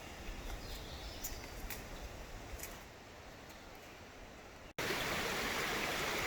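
A creek flowing beside a small wooden trail bridge in the Ouachita Mountains, a soft continuous babble and trickle with faint bird chirps early, then an abrupt jump to a louder rushing wash.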